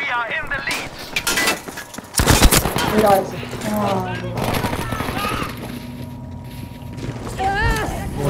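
Rapid automatic gunfire and single shots from the shooter game Battlefield V crackle through a busy in-game soundscape, with a player talking over the bursts in Spanish.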